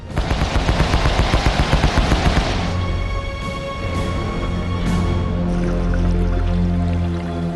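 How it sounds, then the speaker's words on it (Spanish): A World War II warship launches a Hedgehog anti-submarine salvo, a rapid, evenly spaced volley of sharp firing bursts that gives way to a lingering, rumbling wash. "el Pittsburgh lanza el ataque del Erizo"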